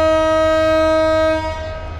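A long, loud steady horn blast from a departing train at a station sounds close by as one sustained rich tone, cutting off near the end and leaving a faint background rumble.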